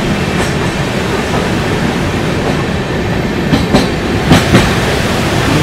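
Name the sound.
train on the Farakka bridge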